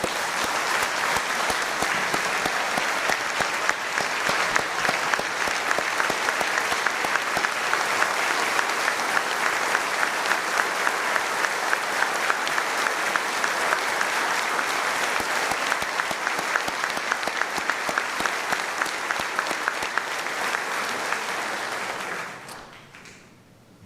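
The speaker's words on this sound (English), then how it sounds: "Let's give them a round of applause" Sustained applause from a large audience at a state-of-the-State address fills the room steadily for about twenty-two seconds, loud and dense, then fades quickly to quiet at the end.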